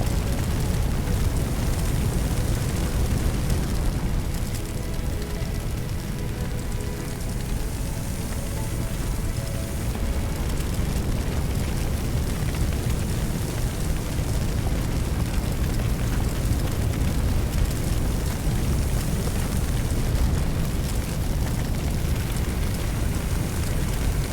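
A water hose sprays onto flames in a firefighting video game, a steady broadband rushing hiss with a low rumble running continuously throughout at fairly loud level.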